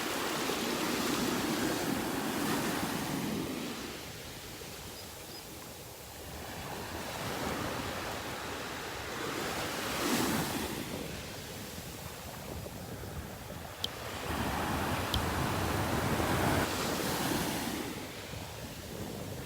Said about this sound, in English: Listen to those waves.